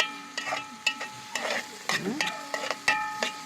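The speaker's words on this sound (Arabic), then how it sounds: "ده نقلب كده بس ما تدبل" A spoon stirs softening onions in a cooking pot on a gas stove, giving irregular scraping clatters and knocks over a low sizzle, close and fairly loud with pauses between strokes.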